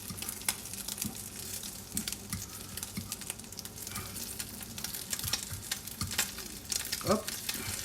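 Food sizzles steadily in a hot frying pan while making a mushroom and chorizo risotto, a dense close crackle with scattered pops and light patter throughout, no voices.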